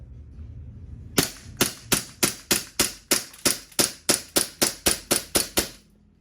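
A WE Glock 19 Gen5 replica gas pistol fires a rapid string of about fourteen sharp, loud shots at an even rhythm, close by, with no talk over the shots.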